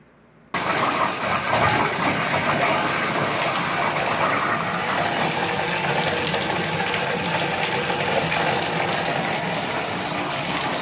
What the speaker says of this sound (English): So we're going to go downstairs and turn the water on and see if that stops the dripping.